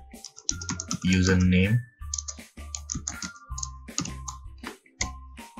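Keys clatter on a computer keyboard as commands are typed into the Windows command prompt, a quick run of close clicks that keeps breaking in between bursts of spoken instruction.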